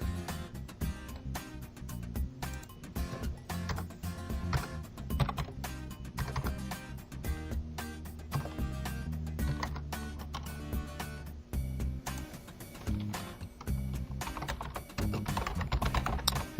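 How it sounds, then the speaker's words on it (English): A computer keyboard is typed on quickly and continuously, a dense stream of close, clacky key presses with a few brief pauses and no voices. "And just type in a comment, hit submit."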